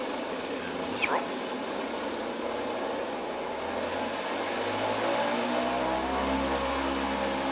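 Radial piston engines of a C-47 Skytrain in Microsoft Flight Simulator run at a steady idle and rumble as the aircraft begins to taxi, a low continuous drone that swells slightly toward the end, with a brief light click early on.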